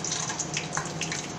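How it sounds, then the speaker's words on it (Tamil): Mustard seeds splutter and pop in hot sesame oil for gongura rice, a dense, steady sizzling crackle close by with tiny rapid pops throughout. "கடுகு நல்லா பொரியட்டும்."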